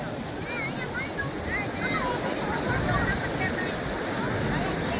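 Constant roaring surf from a rough, stormy sea pounds the shore, close and steady, with talking layered faintly over the water noise.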